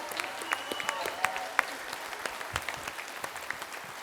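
Audience applause at a Christmas carol service, steady clapping from a full room with sharp individual claps standing out over the dense patter.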